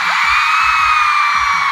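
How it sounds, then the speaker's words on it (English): Concert crowd of girls screaming at a show at The Novo in Los Angeles, a loud sustained high-pitched roar filling the whole clip with a few low thumps beneath. "And all the girls scream."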